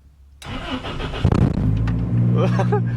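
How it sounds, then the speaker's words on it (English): A Toyota Tacoma pickup engine cranks and catches after a short silence, then settles into a rough, loud idle with a few clanks over it. "Hopefully the car starts up."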